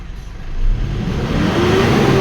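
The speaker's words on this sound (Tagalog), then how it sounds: "itry lang muna natin i-rev" Turbo diesel 4M41 engine in a 2010 Mitsubishi Strada with a low power fault revs up, a near rough roar swelling briefly then holding at a higher pitch.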